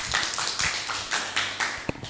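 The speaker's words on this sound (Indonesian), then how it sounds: "berikan tepuk tangan" Classroom applause for a student group, a short run of light, scattered claps from a small group, fairly close and moderately quiet, with no talking.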